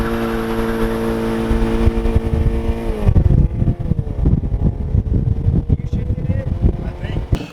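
A Volkswagen GTI with a Eurodyne DSG tune accelerates hard, its engine droning and climbing before a quick gear change drops the pitch, heard from inside the car with a person speaking over it.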